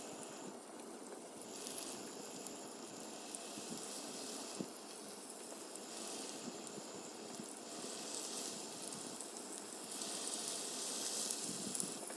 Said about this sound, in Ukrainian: так що смажимо, скорисенько смажимо нашу рибку